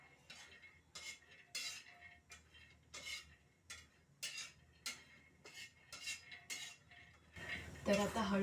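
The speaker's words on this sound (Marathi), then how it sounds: "तर हे शेंगदाणे ना आता भाजत आहेत." Peanuts and coconut are stirred as they roast on a hot griddle, giving a series of light metallic scrapes and clinks at an uneven rhythm, quiet and close, with someone speaking at times.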